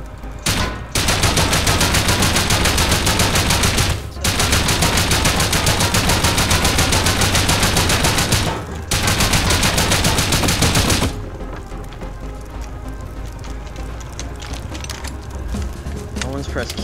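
Sustained rapid automatic gunfire from the video game Rust, loud and continuous bursts with two brief pauses, then fading to quieter scattered shots and background noise near the end.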